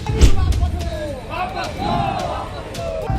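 Angry crowd on city streets during a Bharat Bandh trade union strike protest, with loud shouting, chanting voices and thumps, close and dense, mixed with overlapping talk.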